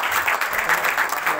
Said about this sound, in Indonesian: tepuk tangan buat Sheila